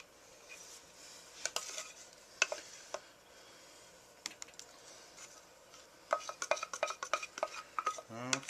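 A spatula scrapes and stirs very hot homemade fudge in a pot, producing quiet, irregular clicks and scrapes that grow busier and more rhythmic toward the end, with a faint sizzle underneath.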